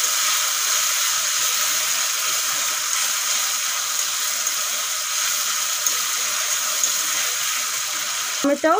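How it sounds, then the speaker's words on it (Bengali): Grated tomatoes fry with ginger and garlic in a pan for a stingray fish and potato curry, giving a steady, close hiss and sizzle that runs unbroken, with a short clatter right at the end. "টমেটোও ভালো করে ভাজা হয়ে গেছে"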